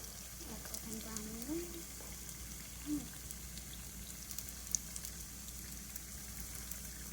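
Churros frying in hot oil give a soft, steady bubbling sizzle throughout, faint and continuous, with brief voices murmuring over it.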